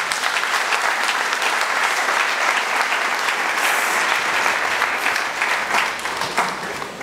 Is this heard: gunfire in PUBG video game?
no